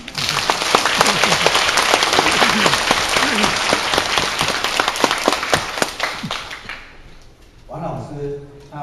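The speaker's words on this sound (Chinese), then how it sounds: "请你不用客气，大声的鼓掌" An audience at an education lecture bursts into loud, dense applause that runs for several seconds and then tapers off, with a voice speaking over the tail end.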